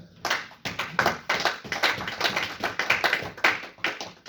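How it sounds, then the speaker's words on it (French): Congregation at a church service clapping together in a steady rhythm, many hands striking at once in dense, repeated bursts with no voices over them. "Est-ce qu'on peut acclamer le Seigneur?"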